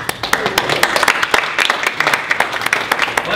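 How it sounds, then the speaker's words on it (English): Applause from an audience at a talk about the Cape Canaveral spaceport, with loud, dense clapping from many hands running steadily throughout. "Let's go to applause before I even start."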